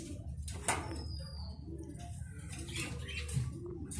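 A Mundiyan pigeon on a farm coos softly in low, throaty rolls, close by, with light rustling and a knock in the background.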